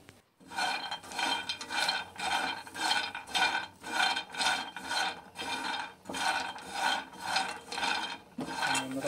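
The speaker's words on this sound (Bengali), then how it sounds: "ভালো করে আমি নাড়াচাড়া করে নিচ্ছি" Rhythmic scraping and rasping of a spatula stirring dry peanuts in a nonstick pan, repeating in steady strokes about twice a second with no talking.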